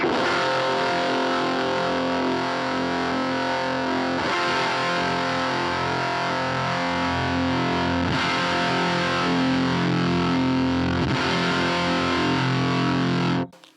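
An electric guitar through a KHDK Unicorn Blood 2 fuzz pedal with the bass knob fully off plays a heavily fuzzed chord that rings out thick and buzzing, restruck a few times, then cuts off abruptly at the end.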